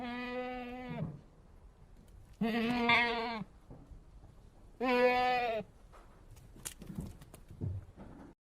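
Domestic goats bleat three times in a row, each call a loud, wavering cry of about a second separated by short pauses, followed by faint scattered rustling and small knocks.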